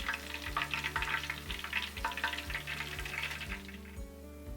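Coconut shrimp fry in hot oil, giving a steady, fairly loud crackling sizzle with bursts of bubbling that eases slightly toward the end, heard alone with no talk.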